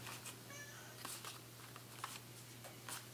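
An indoor house cat gives soft, faint meows over about three seconds, a few brief calls scattered over a low steady hum, with no speech.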